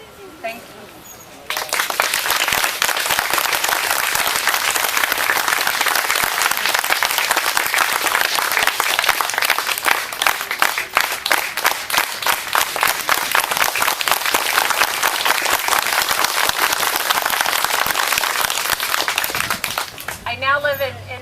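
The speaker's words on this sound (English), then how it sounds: "I want a moment of applause" Crowd applause at a community meeting in Kettleman City in memory of a friend, dense sustained clapping lasting about twenty seconds, starting abruptly and fading at the end.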